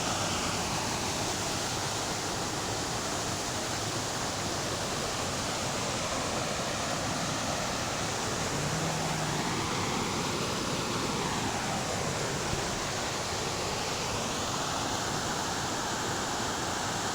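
Aanakund waterfall at Meppadi in Wayanad gives off a steady, dense rushing roar that holds even and unbroken throughout, with no voices over it.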